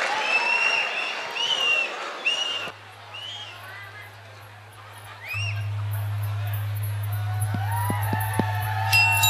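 A concert audience at Naad Amphitheatre, ITM University claps in a burst of applause mixed with voices. A steady low hum runs underneath and grows stronger partway through.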